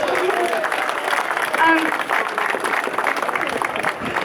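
A crowd at an anti-racism rally in Rotherham claps for a few seconds, with the applause fairly close and mixed with voices.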